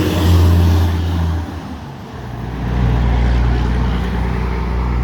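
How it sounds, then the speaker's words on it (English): A tractor trailer rumbles past outdoors beside a garden, a loud low engine and road drone that dips briefly and then swells again as the truck goes by. "I'm gonna wait for this tractor trailer to go by to finish what I'm saying."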